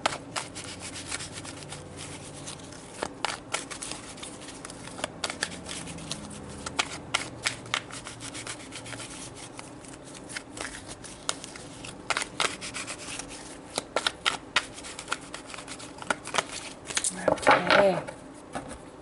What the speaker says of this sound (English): let's pull some tarot cards to get some more information